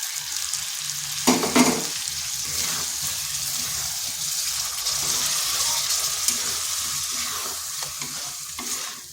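Grated tomato added to frying potato masala for aloo dum, a loud burst of sizzle followed by steady frying and stirring scrapes, close by, with no talking.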